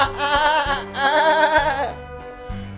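Performer's voice imitating a goat, giving two long quavering bleats with a stacked harmonic tremble, loud and close, each one cut off sharply, with a faint trailing sound after them.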